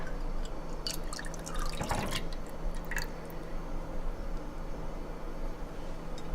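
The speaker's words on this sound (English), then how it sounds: "I'm going to pour in my cup of milk." Milk poured from a cup into a pot on a stovetop, a short liquid splash and drip around two seconds in, then quiet kitchen background.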